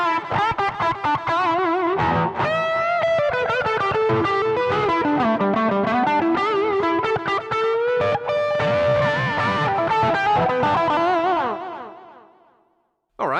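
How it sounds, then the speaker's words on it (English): An electric guitar played through the hall delay of a Zoom GFX-707 multi-effects unit plays a busy run of notes, echoes trailing and smearing together before fading out, with a brief pluck at the end. "There's delay hall."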